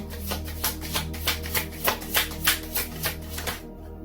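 Tarot cards being shuffled by hand, a quick run of crisp, evenly spaced riffling snaps up close, stopping abruptly near the end, with no speech.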